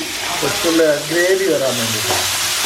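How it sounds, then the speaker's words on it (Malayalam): Coconut pieces, green chillies and shallots frying in hot oil, a dense continuous sizzle with stirring, while a voice talks over it. "ഈ തേങ്ങാക്കൊത്തിനെ നമ്മൾ നന്നായിട്ട് മൂപ്പിക്കണം."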